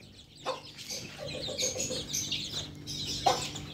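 An Aseel hen clucking close by, a run of short rhythmic clucks and calls with a couple of sharper louder notes, heard alone without talk.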